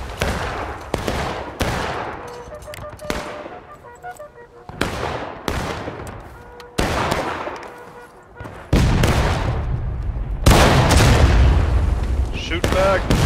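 Musket volleys ring out in the Civil War shooter War of Rights, sharp booming shots each trailing a decaying echo, spaced irregularly at first then bunching into heavier fire, with shouting players in the mix.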